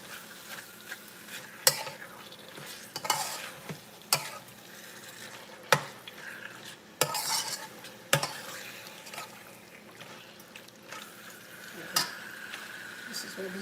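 Meat sizzling and frying in a hot pan, a steady crackling hiss broken by sharp spits and pops, with stirring and scraping noises throughout.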